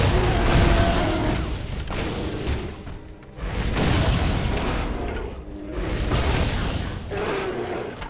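The engineer's cannon fires in the Torchlight 2 video game with a series of heavy booming blasts. They come in roughly regular waves, each swelling and then fading, against a busy game soundscape.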